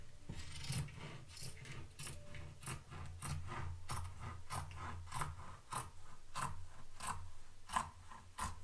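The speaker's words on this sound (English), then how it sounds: "Now I'm just going to start cutting here" Scissors snipping through a thrifted hoodie's fabric in steady, rhythmic cuts, close and crisp, about a dozen strokes with a soft low hum underneath.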